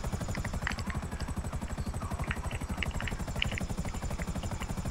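Helicopter in Grand Theft Auto Online, a steady rhythmic rotor thump with engine whine, continuous and fairly quiet, with faint game sounds scattered over it.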